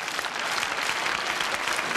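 Television studio audience at a Johnny Hallyday variety show applauding the technical crew, a dense, steady wash of clapping that stays loud and even throughout with no voices on top.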